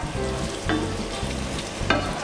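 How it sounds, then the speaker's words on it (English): Crab and tomato sizzle and fry steadily in a pan for crab and prawn linguine, with a continuous close crackle and two brief louder bursts as the mixture is stirred. "Get the crab and tomato cooked through."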